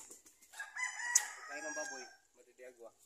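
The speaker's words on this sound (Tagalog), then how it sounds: "may manok" A rooster crows nearby on a farm, followed by clucking from chickens, with a short stretched call and choppy bursts.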